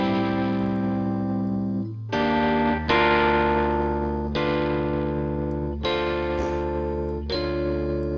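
Sustained electric piano chords played through a distorted amp effect in Logic Pro X, changing every second or so with a thick, buzzing, reverberant tone and no talking.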